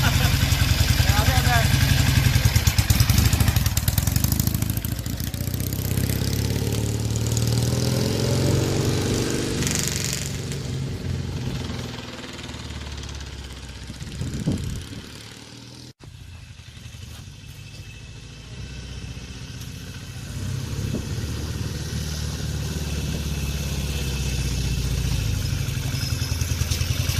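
A 1974 Norton 850cc Commando motorcycle engine idles steadily after a carburetor swap, a close, continuous low rumble running under people talking throughout.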